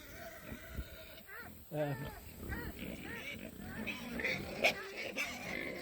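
Several pigs grunting and squealing up close, overlapping snorts and short high cries in an irregular, hungry-sounding chorus.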